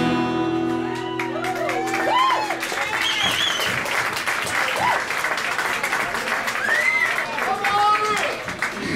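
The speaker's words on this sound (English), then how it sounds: "Thank you very much for that round of applause" Pub audience at a traditional Irish music festival breaks into steady applause with scattered woohoos and whoops, a dense, lively clatter of clapping that carries on for the full stretch, with a few voices rising above it.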